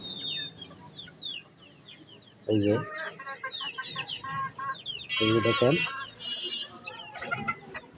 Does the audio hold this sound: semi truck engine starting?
no